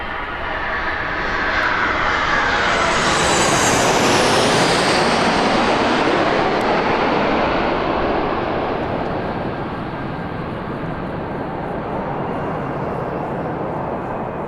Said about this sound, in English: I've got a Ryanair right on top of me.